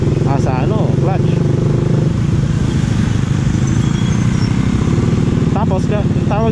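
A Suzuki Raider R150 Fi motorcycle rolls through traffic with the clutch pulled in, its engine droning steadily and close up under the surrounding road noise, while a voice speaks briefly at the start and near the end.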